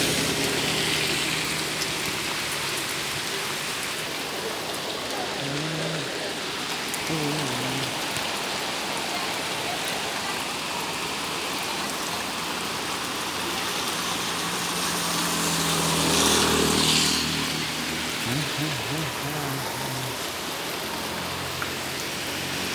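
Heavy rain pours steadily in Ternate, North Maluku, a dense, loud, unbroken hiss of water beating on surfaces, with faint low sounds briefly rising beneath it.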